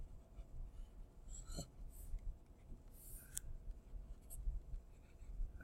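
Red markings get erased from a board during a math lesson, making soft scrubbing and rubbing strokes with a few brief squeaks. The sound is faint and close, with no talking.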